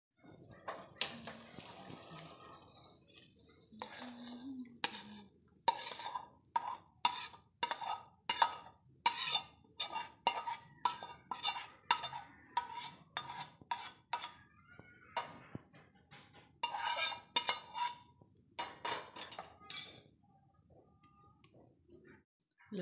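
Close, rhythmic scraping and clinking of a ladle or spoon against metal pots as thick, well-cooked dal is moved into another pot, a steady run of sharp taps with quieter gaps.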